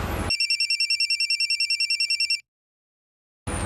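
A telephone rings on an outgoing call, a rapid warbling electronic trill pulsing steadily for about two seconds before cutting to silence, with a short burst of other sound at either end.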